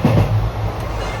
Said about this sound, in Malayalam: ഇതൊക്കെ ബ്ലൂ സൈഡ് ട്രെയിൻ, റോഹേന്ന് പൻവേലിക്കുള്ള ട്രെയിൻ.